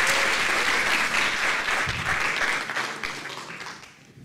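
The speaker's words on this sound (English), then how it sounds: "I will be happy if you can give a clap to her" A conference audience in Tel Aviv claps for a speaker taking the stage, a loud, dense burst of applause that stays full before thinning and fading toward the end.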